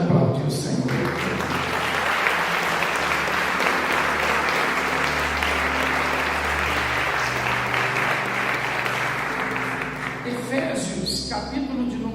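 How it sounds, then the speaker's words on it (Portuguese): A church congregation applauds the Lord in sustained, dense clapping that fills the room for about ten seconds, with voices mixed in, before tapering off near the end. "Pode aplaudir o Senhor"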